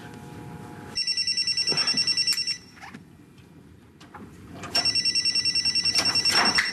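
Telephone bell ringing in two long bursts of rapid, loud electronic trilling with a pause between them, alone in an otherwise quiet room.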